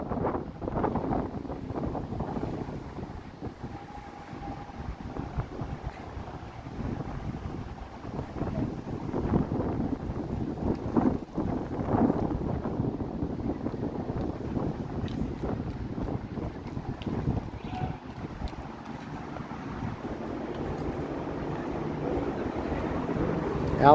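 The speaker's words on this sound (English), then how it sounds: "It's got a bit of a canyon going on here, so the wind just hurls down here" Wind hurls down a Toronto street canyon, buffeting the microphone in uneven, gusty low rumbles that rise and fall throughout, with faint city background underneath.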